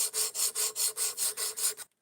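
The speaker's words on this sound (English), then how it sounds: "right now we're running a 220 grit stone" Blade sharpened on a 220 grit stone, the coarsest grit offered on the setup: about eight even, rhythmic rasping strokes back and forth, close and clear, ending abruptly.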